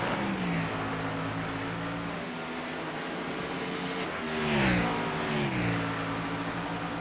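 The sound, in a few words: Cup Series race cars battling on track in a racing video game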